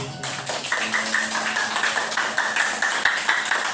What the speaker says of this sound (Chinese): 好，请为自己掌声鼓励